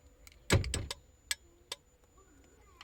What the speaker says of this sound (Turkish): Röle iki defa tik tak tik tak demesine rağmen motordan bir defa tık sesi geliyor.